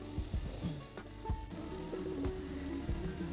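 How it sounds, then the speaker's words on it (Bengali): Onion, panch phoron and green chilli hiss and sizzle steadily in hot oil in a close pan, with scattered sharp clicks and taps of a stirring utensil. "এক এক করে তেলে পেঁয়াজ, পাঁচফোড়ন, কাঁচা লঙ্কা সব দিয়ে দিলাম"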